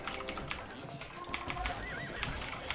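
Horses neigh and whinny in a medieval strategy video game, with mounted horse archers amid hoof clip-clop and clicking game effects; someone talks in Spanish over the sounds.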